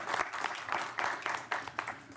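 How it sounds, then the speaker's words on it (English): Applause at a city council meeting: a roomful of hands clapping steadily for about two seconds, moderately loud and evenly sustained, with no voices over it. "Bobby Lewis, Fred Welch, and Sean Stevens deserve a round of applause for all of the help that they gave me."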